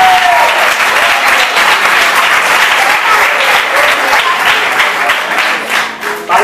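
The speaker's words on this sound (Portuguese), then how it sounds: "Você é ovelha, aplauda Jesus" A church congregation applauds loudly and steadily, a dense, continuous wash of many hands clapping close by that carries on for several seconds and thins slightly near the end.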